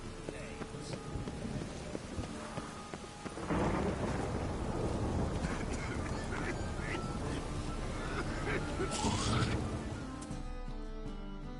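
Thunderstorm in The Witcher 3: a steady wash of heavy rain with deep rolling thunder that swells loudly around the middle and slowly fades toward the end, with faint background game ambience.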